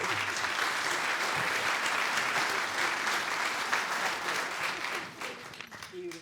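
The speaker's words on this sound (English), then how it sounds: "Let's give them another round of applause" A room at an annual scholarship foundation meeting breaks into full, dense applause that holds steady for several seconds, then thins and tapers off near the end.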